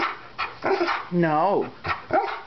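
An Old English Sheepdog gives a short bark and a whining, yelping howl between brief bits of nearby speech.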